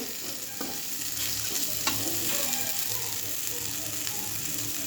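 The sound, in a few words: bitter gourd frying with onion, being stirred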